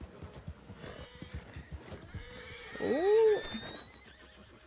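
In Red Dead Redemption 2, a black Shire horse foal lets out one clear, rising-and-falling whinny amid rhythmic hoof clops on forest ground. A person gives a short exclamation.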